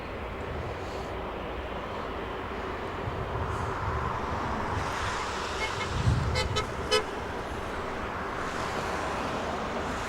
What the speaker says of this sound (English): Friendly viewers giving us a nice friendly honk.